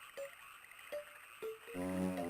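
Frog croaking in the video game Tingle's Balloon Trip of Love: three short, evenly spaced croaks over a soft background, followed by rising game music at the end.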